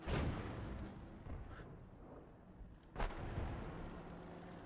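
In World of Tanks, an M53/M55 self-propelled artillery piece fires, two heavy booming shots a few seconds apart, each with a sharp blast and a rumbling tail, over a low background.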